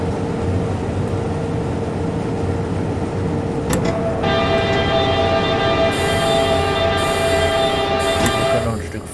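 A train rolls steadily in the Train Simulator 2019 game on the Frankfurt to Riedstadt route, a loud, constant rumble of wheels and motor with a sustained tonal horn-like chord layered in partway through.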